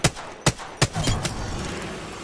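Gunfire in Apex Legends: three separate sharp shots ring out in quick succession, followed by a denser burst of firing at close range.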